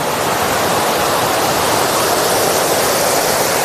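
A loud, continuous broadband roar of water spilling as a waterfall over the overflowing Kareda dam, steady and close with no pauses or voices.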